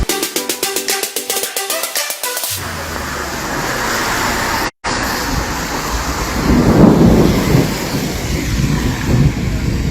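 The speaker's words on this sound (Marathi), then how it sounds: "विजांचा गडगडाट" Thunder rumbles loud and sustained through a heavy monsoon downpour, preceded by a few seconds of unrelated rhythmic sound, with a brief cutout midway and a swelling roll toward the end.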